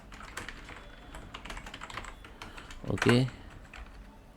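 Light, quick clicking of keys on a computer keyboard while text goes into a spreadsheet cell, close and fairly quiet, with a brief spoken word near the end.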